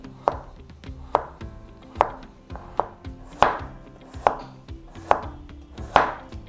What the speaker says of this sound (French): Je coupe la carotte en deux. Et puis, je coupe en petits morceaux.